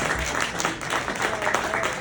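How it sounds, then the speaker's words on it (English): Crowd applause before a stand-up comedy set, a steady wash of many hands clapping at once, dense and continuous at moderate loudness with no clear single claps. "clap for me, clap for me"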